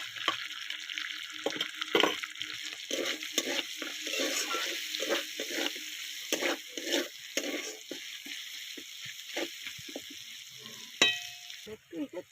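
Onions fry in hot oil that has just been used for shrimp, tempered with whole chilies. A continuous sizzle runs under repeated, close scraping strokes of a spoon stirring the pan, with brief gaps between strokes.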